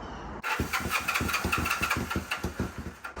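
A 1974 Honda CB450 motorcycle engine, cold with the choke on, cranks and fires up, settling into a rough, loping idle with uneven pulsing beats close to the listener.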